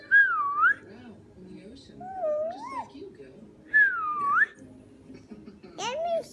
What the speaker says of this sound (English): Let me see you whistle.